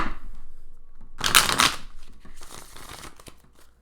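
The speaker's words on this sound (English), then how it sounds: "Just one more little shuffle here." A deck of tarot cards is shuffled by hand close up, with a loud, dense riffling burst in the middle, softer card rustling before it and lighter shuffling after it.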